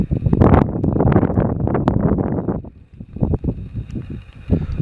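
Loud, buffeting wind noise roars across the microphone on a mountainside on Goatfell, for several seconds, easing briefly before gusting up again.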